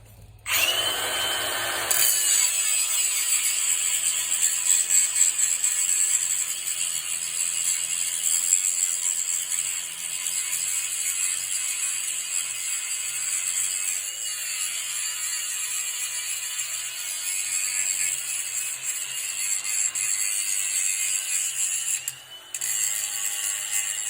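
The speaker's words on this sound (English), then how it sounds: "we got to grind them all down smooth, nice and flat and shiny" Angle grinder smoothing welded caps flat on metal, a steady high-pitched whine with continuous abrasive hiss that runs almost unbroken for the whole stretch, close and loud.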